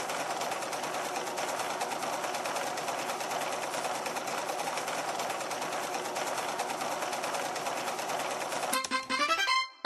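A sewing machine in a mobile dress-up game stitches fabric pieces with a fast, steady mechanical whirr that runs nearly the whole time, ending with a short burst of game chimes.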